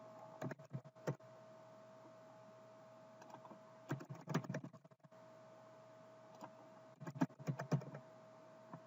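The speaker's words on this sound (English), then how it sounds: "start typing" A computer keyboard is typed on in short bursts of quick clicking keystrokes, separated by pauses, close but quiet over a faint steady electrical hum.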